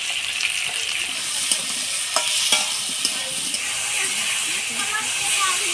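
Eggplant pieces seasoned with turmeric and salt fry in hot oil for a Bengali fish curry, giving a steady sizzling hiss punctuated by a few sharp spatters and the scrape of stirring.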